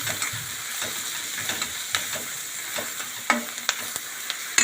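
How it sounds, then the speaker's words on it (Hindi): Turmeric frying in a pan as poha is being prepared, a steady sizzle with scattered stirring scrapes and small crackles close by, no voices. "1 चम्मच हल्दी। अच्छे से भूनेंगे इसको।"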